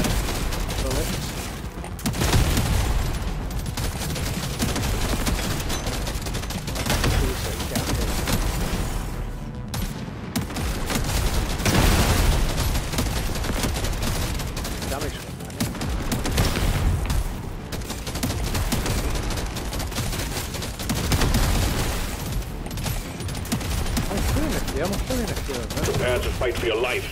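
Dense, nonstop gunfire and explosions from Deep Rock Galactic: Survivor in crystalline caverns, loud and chaotic with rapid overlapping shots, and a voice talking over the action.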